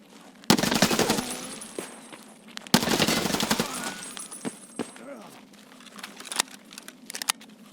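Rapid bursts of Mk47 Mutant rifle fire in a video game: two dense automatic volleys, close and loud, followed by scattered single shots and impacts, with a voice talking over the shooting.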